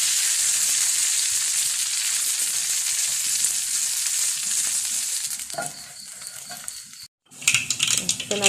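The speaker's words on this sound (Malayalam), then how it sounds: "അപ്പോൾ വറവിടാണ്. കടുകും കറിവേപ്പിലയിട്ട് അതിലേക്ക്" Mustard seeds and curry leaves tempered in hot oil for a potato curry, a loud continuous sizzle and crackle with stirring clatter, cut off by a brief silence before sharper popping resumes.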